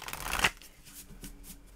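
Tarot cards are shuffled in one quick riffle, a short crisp flutter ending in a soft tap, followed by faint rustling.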